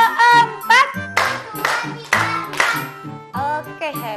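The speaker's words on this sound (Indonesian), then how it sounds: "Sekarang tepuk empat." In a children's Quran class, a group of kids claps about four times in sharp bursts, mixed with their lively voices chanting and talking all the way through.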